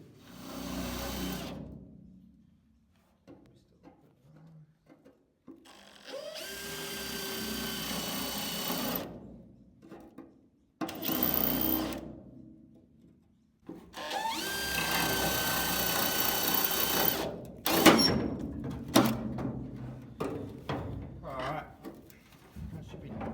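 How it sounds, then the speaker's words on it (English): A power drill whines in several long bursts with quiet gaps between them, close and loud, drilling out spot welds from the inside of a Ford Falcon 500 XY ute body. "drill out the spot welds from the inside"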